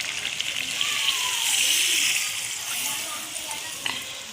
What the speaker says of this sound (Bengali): এবার দিয়ে দেবে একটু উষ্ণ করে রেখেছিল গরম জল